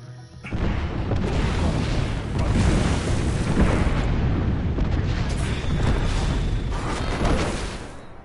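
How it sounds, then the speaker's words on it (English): Airstrike explosions in a video game pound behind mountains as a continuous, loud rumbling barrage of heavy booms, rolling and surging for several seconds without a break. "Airstrike."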